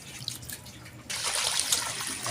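Water from a tap runs over chicken intestines being washed in a sink, a soft trickle that turns into a louder, steady splashing flow partway through; close, with no talk.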